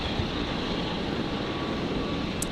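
A Qatar Airways Boeing 777 touches down on a Brisbane runway, its jet roar a steady, broad rumble with no distinct impact, heard from a distance and filling the whole moment.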